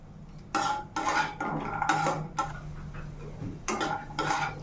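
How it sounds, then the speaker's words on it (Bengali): Cashews and raisins frying in ghee in a pan for pulao, stirred with a metal spoon, giving repeated close scraping and clinking strokes over a steady low sizzle. "এরপর আগে কাজু আর কিশমিশটা ভেজে বার করে নেবো।"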